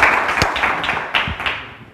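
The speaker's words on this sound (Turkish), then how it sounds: "Karşılama efendim alkışlayalım Kenan Yılmaz'ı, Kenan abimizi." Audience clapping for kemençe master Kenan Yılmaz at a wedding-style folk music program, a moderate crowd applause with a few sharper claps rising above the steady patter before easing off.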